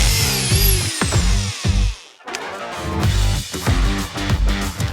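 A power drill bores into garage brickwork nearby, running loud and hard in stuttering bursts, with a short pause before it grinds on again.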